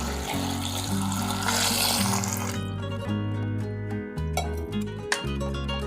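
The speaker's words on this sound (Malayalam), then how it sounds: "ചക്കക്കുരു എത്രയുണ്ടോ അത്രയും വെള്ളം ഒഴിക്കണം" Water runs into a pressure cooker holding jackfruit seeds, a steady close pouring splash that shifts in pitch as the cooker fills, with no talking.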